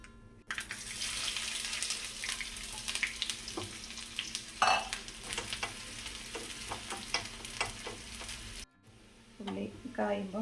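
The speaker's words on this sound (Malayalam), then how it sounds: "കടുകൊന്ന് പൊട്ടുമ്പോൾ നമുക്ക് ഉള്ളി ഇട്ട് കൊടുക്കാം." Onions and popped mustard seeds fry in a hot pan with a steady, loud sizzle and crackle, stirring scrapes throughout and a brief pause near the end before the frying resumes.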